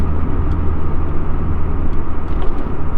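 A fourth-generation 1984–1996 Chevrolet Corvette engine hums steadily while driving, a smooth continuous low rumble with road and wind noise and no talk.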